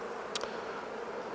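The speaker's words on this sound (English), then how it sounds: "Just put a load of bees up in the air, sorry for that." Honey bees buzz steadily around an opened hive as a queen-cell grafting frame is lifted out, a dense, close hum running throughout with a brief louder burst near the start.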